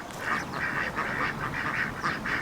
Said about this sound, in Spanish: Y acá puedes venir, darle comida a los patos.